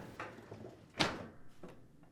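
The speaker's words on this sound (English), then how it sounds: "push the dish rack back into the dishwasher and close the door" Whirlpool dishwasher rack slid back in and the door shut, a few soft rolling clatters and then one sharp closing thud, fairly quiet in a kitchen.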